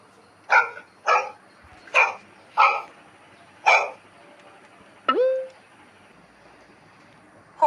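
A dog barks five times in sharp, loud, close bursts spaced roughly half a second to a second apart, followed by a single short spoken word.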